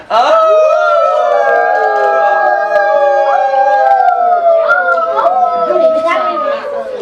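A voice imitates a coyote, singing long wavering howls with rising and falling pitch, loud and close, continuing steadily throughout.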